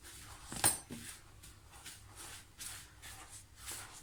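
A spoon stirring maamoul dough ingredients, almond powder and starch, in a bowl, faint soft scraping strokes in a slow, irregular rhythm with one sharper clink near the start.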